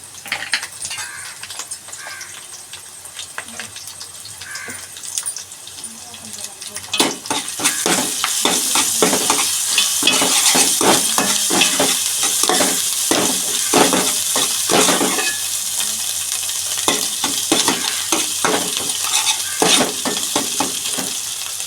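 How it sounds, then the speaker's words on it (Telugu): Onions frying with ginger paste and turmeric in a pan, stirred with a metal spoon: soft sizzling at first, then louder sizzling with repeated scraping and clinking strokes against the pan. "ఉల్లిపాయలు అయితే మగ్గాయండి కొద్దిగా అల్లం పేస్ట్ వేసుకుందాము అలాగే పసుపు కూడా కొద్దిగా పసుపు వేసుకుందాము"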